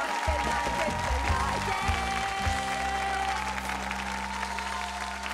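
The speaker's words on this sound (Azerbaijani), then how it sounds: "Davam edirik və alqışlarla yeganəni yola saldırıq." An audience claps steadily to send off a young contestant on the televised children's singing contest The Voice Kids Azerbaijan, the applause continuing evenly over a low, sustained musical bass from the stage.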